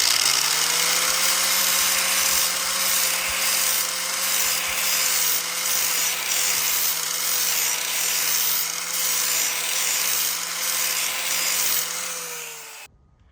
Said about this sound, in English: So look at that grinding.